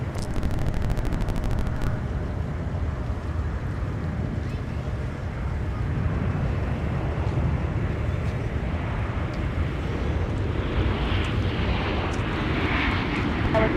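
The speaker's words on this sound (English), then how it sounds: "Let's take a look at this American flight coming in from DFW." An American Airlines plane arriving from DFW at Minneapolis–Saint Paul airport in winter, heard as a steady, fairly loud jet roar that holds throughout, with faint radio chatter in the background.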